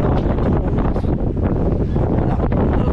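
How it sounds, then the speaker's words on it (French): Strong wind gusts at around 18 knots buffet the microphone aboard a sailboat under way at sea, a loud, continuous roar with surging rushes throughout. "Bon, c'est des rafales qu'on a à 18 nœuds."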